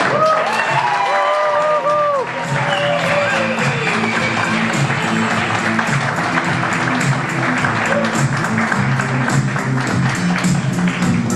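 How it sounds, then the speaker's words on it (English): A comedy club audience at The Charlotte Comedy Zone claps and cheers for a comedian taking the stage. The applause is loud and sustained, a dense wash of clapping with whoops and voices mixed in throughout. "give a big, warm round of applause for Miss Darisse Smith"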